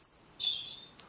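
Little birds chirping as a book sound effect: high, clean tweets in three quick bursts, the middle one lower in pitch, close and clear.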